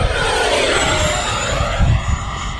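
An FMS 80mm Sabre EDF model jet flies overhead on a windy day, its loud, steady ducted-fan whine and rushing air holding throughout and swelling slightly as it passes near.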